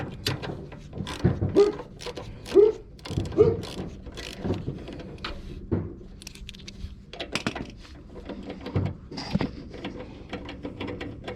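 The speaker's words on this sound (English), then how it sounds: "Got to unbolt this here too." Metal clicks, ratcheting and rattling of tools as bolts are undone on a worn Cheetah Briggs and Stratton ride-on mower, irregular close knocks and clatters at a moderate level.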